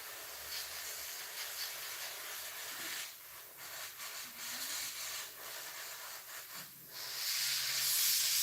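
Airbrush spraying paint onto a figure, cold airbrushing, giving a steady close hiss that dips briefly in places and grows louder toward the end, with no talking.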